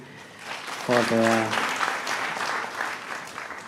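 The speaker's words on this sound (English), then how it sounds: "We can clap for our engineers" An audience breaks into steady applause, many hands clapping together, with a brief voice sounding near the start.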